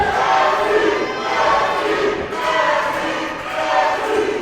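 A loud, sustained crowd roars and chants at an indoor independent pro wrestling show, CCW Meltdown 2022 in Nashville, swelling and dipping in waves with no break.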